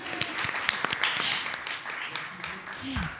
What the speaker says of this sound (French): Oh, pardon, oui, on peut applaudir.